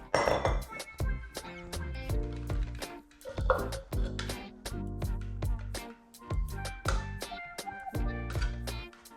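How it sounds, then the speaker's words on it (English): Homemade biscuit mixture of flour and butter tipped from a food processor into a bowl, with repeated clinks, knocks and scrapes of utensils against the containers in quick irregular bursts, close and fairly loud. "we're gonna put our mixture into a bowl"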